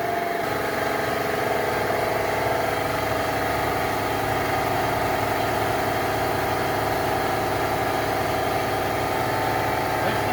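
An air compressor runs steadily in a home garage during a spring install on an S550 Mustang GT, a continuous loud motor drone with mechanical vibration lasting throughout, no talk over it.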